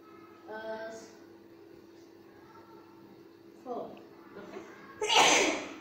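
A single loud, abrupt sneeze bursts out near the end of an English lesson, following a brief spoken word and a short breathy sound.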